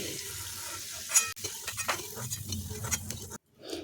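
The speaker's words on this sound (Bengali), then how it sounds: "এক টেবিল চামচ বাদাম এর মধ্যে ভেজে নিচ্ছি লো ফ্লেমে বাদামটা নেড়ে চেড়ে ভেজে নিতে হবে" Peanuts fry in hot mustard oil in a wok over a low flame: a soft sizzle with repeated scraping stirs of the spoon, nearby and with no talk.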